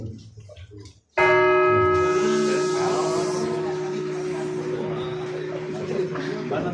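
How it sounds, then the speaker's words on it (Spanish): Church bells ring out loudly after a brief hush, one deep bell tolling with a long sustained hum, a faint murmur of people underneath. "Vamos a hacer 18 drums que darán inicio a toda Europa de un magnífico concierto de campanas."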